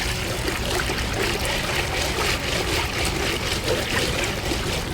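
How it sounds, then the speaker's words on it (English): Water washing dirt off dark blue rocks: a continuous broadband splashing and trickling rush, close and steady throughout. "Let me see if I can wash it off just a little bit more."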